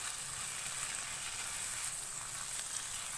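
Chicken fries with garlic and ginger in a pan, giving a soft, continuous hiss of sizzling oil, even and fairly faint throughout.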